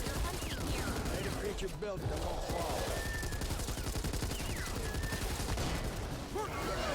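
Sustained automatic fire from a light machine gun in the video game Back 4 Blood: rapid, steady bursts that run nearly unbroken and loud, with in-game character voices calling out over the shooting.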